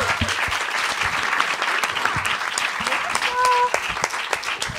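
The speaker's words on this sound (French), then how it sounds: "Allez, on les applaudit, allez." Studio audience applause greets arriving guests on a French comedy show, with dense clapping and some voices mixed in under the crowd noise.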